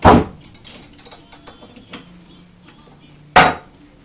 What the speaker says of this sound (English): you'll be able to twist the top cap off the remainder of the way by holding this nut in place.